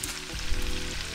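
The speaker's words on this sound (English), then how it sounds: "now I'm about to add the garlic" Garlic sizzles and fries in a hot pan of Southern fried cabbage, a steady close crackle filling the short moment with no talk over it.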